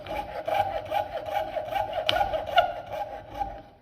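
A thin-bladed saw cuts slowly through an HDPE plastic keyring, producing a steady, close rasping rhythm of short up-and-down strokes with no talking.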